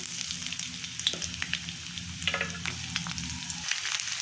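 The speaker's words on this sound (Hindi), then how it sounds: "सबसे पहले इसमें पड़ेगा सौंफ और इसके साथ ही डाल देंगे लहसुन।" Fennel seeds and garlic fry in hot oil with a dense, steady sizzle and crackle, close up and continuous, with occasional stirring scrapes.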